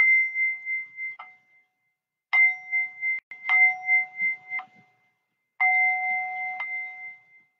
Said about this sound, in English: I'll just do a little 7 bells just to bring us back down